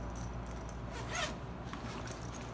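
A zipper drawn along a lunch bag packed with a small hand towel, a soft, close rasping zip over steady low background hum.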